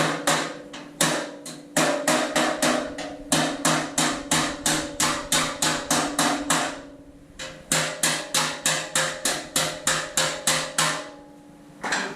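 A hammer taps steadily on the sheet-metal mudguard of a Fordson Major E1A tractor under rebuild, landing in quick, close, ringing strikes in two long runs with a short pause between them.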